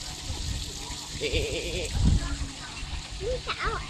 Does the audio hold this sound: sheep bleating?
yes